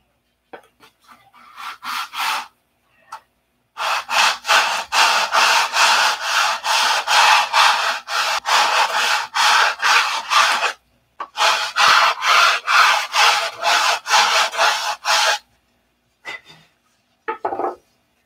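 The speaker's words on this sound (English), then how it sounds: "So we have to sand that out. Sanding is good." Wood is sanded by hand on a Razorback P-47 model build, leaving a rough, rhythmic scraping in long runs of steady back-and-forth strokes, close to the microphone, with short pauses between runs.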